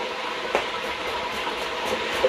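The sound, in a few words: deep fryer frying in the background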